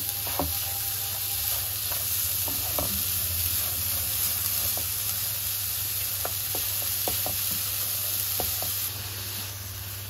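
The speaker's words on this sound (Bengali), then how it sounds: "নাড়তে থাকতে হবে, নয়তো গুড়টা পুড়ে যাবে এক সাইড দিয়ে।" Melting jaggery (gur) being stirred in a pan for dudh puli pitha, a steady soft sizzle with scattered faint scraping clicks of the spoon throughout, continuous and moderately quiet with no voices.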